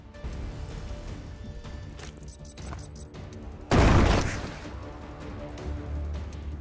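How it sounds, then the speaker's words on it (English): A grenade explodes in the video game Shardpunk Verminfall: a loud, sudden blast with a rumbling low boom that decays over about a second, set against a steady game soundscape with scattered clicks and clatter. "Alright, let's throw a grenade."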